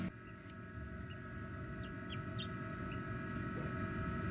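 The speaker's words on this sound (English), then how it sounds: "I hear chirping going on in there." Newly hatching American Bresse chicks chirp faintly and intermittently inside an incubator, with short high peeps scattered over a steady mechanical hum, with no talking.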